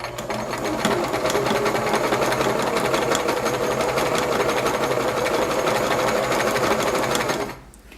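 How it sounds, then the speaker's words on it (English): A sewing machine runs steadily through fabric at a seam edge, including a few reverse backstitches, close and loud as a dense continuous whir that stops abruptly near the end. "I sew to the edge of my fabric, then I press and hold down my reverse stitch button and do 4 or 5 stitches backwards."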